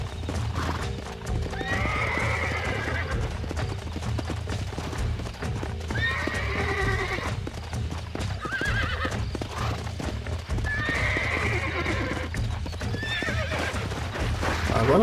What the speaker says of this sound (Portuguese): O próximo passo do treinamento do cavalo é fazer ele ficar em pé.